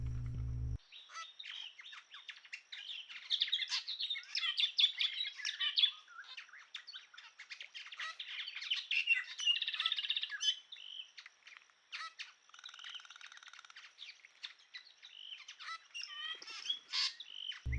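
Treepies calling at Rocky Pool, a busy run of chattering, squawky calls and chirps that overlap almost continuously, moderately near, with insect buzz faintly underneath.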